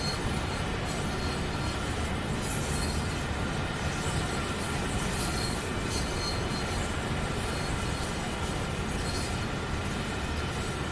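Heavy freight train grinding up Sherman Hill in wet snow inside a train simulator game, a loud constant rumble of engines and wheels with faint squeals, steady throughout with no talk.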